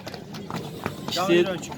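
At a horse market in Nookat, Kyrgyzstan, a horse's hooves clip-clop in a few scattered, moderately near thuds while people talk nearby.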